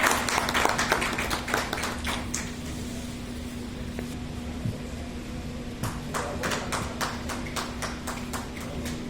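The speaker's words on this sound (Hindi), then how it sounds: "तालियों में कोई कमी ना करें।" Applause from an audience at an award ceremony during a health organisation's convention, with dense clapping bursts at the start and again near the end, a sparser patter between, and a steady low hum underneath.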